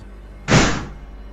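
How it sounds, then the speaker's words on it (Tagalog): A tire inner tube bursts in a single loud, booming bang that decays over a fraction of a second, alone against a quiet background. "Sigurado siyang sumabog ang interior ng gulong."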